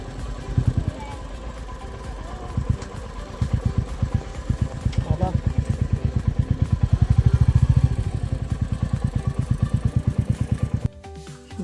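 A motorcycle engine idles at the end of a family bike ride through the Konkan, a loud, close, rhythmic chugging with steady pulses that swell in the middle before cutting off near the end.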